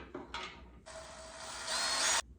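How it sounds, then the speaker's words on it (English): A power drill bores a new hole to mount a stair climber, with a short burst of motor whine followed by a sustained, louder drilling run that builds toward the end before stopping abruptly, close and alone. "we will drill a new hole using this"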